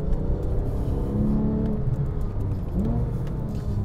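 A Porsche 911 997 GT3 driven on a track, its engine heard from inside as a loud, steady droning roar with rising and falling pitch as the revs change, close and continuous.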